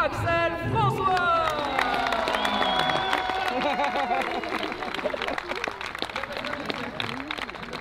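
Dense crowd applause and cheering at a French drift championship podium ceremony, steady and loud, with whoops and chattering voices mixed into the clapping.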